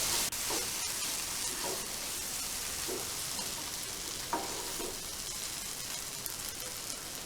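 Tomato masala for tomato rice sautéing in a pan until thick, giving a steady, close hiss of frying with faint scattered pops and occasional stirring scrapes, no voices.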